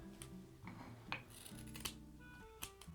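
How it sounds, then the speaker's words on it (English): Scissors snipping through strands of white yarn, a few quiet, sharp cuts spaced out over a few seconds against a soft indoor hum. "I'm going to be cutting 30 strings of the white yarn"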